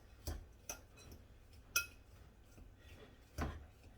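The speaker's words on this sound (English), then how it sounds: "Now we're gonna stir that around with our fork." A fork stirring sweet potato casserole mixture in a dish, a few sparse, quiet clinks and taps of metal against the bowl spaced irregularly, with near silence between them.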